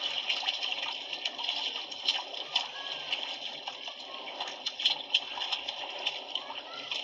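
Choppy sea water splashes and sloshes continuously at close range, a steady rushing wash with small bursts, with faint voices underneath.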